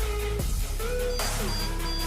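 Electronic stud finder sweeping a wall for a bodyboard shelf build, giving a sustained electrical-detection tone that drops, then rises to a higher steady beep, close and fairly clear over a constant background hum.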